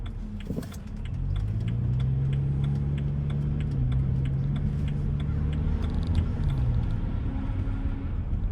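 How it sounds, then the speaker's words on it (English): A car engine hums steadily close by with a sustained drone that rises slightly and fades, ticking sounds faintly in the background. "I just heard a car."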